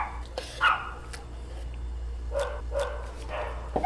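Dogs bark in short, scattered yips and woofs outdoors near a pellet grill, moderately distant and fairly faint over a low steady hum, several separate barks spread across a few seconds.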